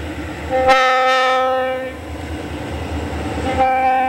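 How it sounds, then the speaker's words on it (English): A CSX freight train horn sounds loudly in a sustained chord at Xenia, Illinois, then cuts off as heavy rail rumble continues; the horn returns briefly near the end. "Eastbound train number 372 passes at Xenia, Illinois, 18 miles east of Salem."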